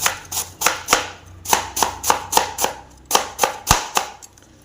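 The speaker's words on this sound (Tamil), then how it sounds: "ஒரு முட்டைக்கோசு ஒன்று எடுத்துருக்கோம் நல்லா பொடியாக கட் பண்ணியிருக்கோம் எப்படி கட் பண்ணுறோன்னு பாருங்கள்" Cabbage being chopped finely with a large kitchen knife: about ten sharp, evenly spaced chops in a steady, brisk rhythm, close and clear, with no voices.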